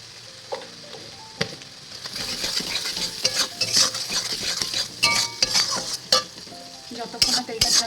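A paste of dried chili and turmeric for dried-fish bharta sizzles loudly in oil while a metal spoon scrapes and clinks against the pan in quick, irregular strokes.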